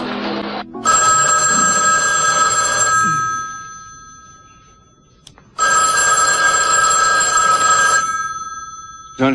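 Old-style telephone bell ringing loud and close in two long rings of a couple of seconds each, split by a pause, with a faint voice briefly before the first ring.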